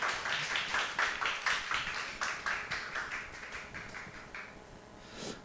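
A church congregation applauds to welcome the pastor with rhythmic, pulsing handclaps at roughly two beats per second that gradually soften and fade out, heard from a distance in a reverberant hall.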